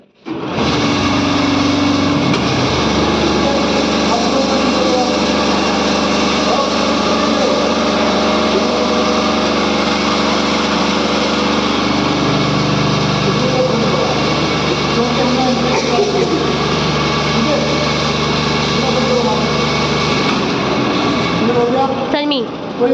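An AC to DC converter machine in an electrical practical runs with a loud, steady hum and tonal whine that holds for the whole stretch, with voices faintly underneath.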